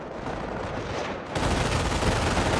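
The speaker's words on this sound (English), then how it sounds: "Must have forgot about that machine gun though, because the machine gun stayed put." Machine gun fire in the video game Company of Heroes rattles on continuously, with a dense crackle of battle noise that grows louder partway through, heard without any talking.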